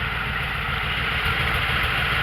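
A vehicle engine idles steadily with its transmission failing to shift up, a close, continuous low rumble with faint pulsing that holds level throughout.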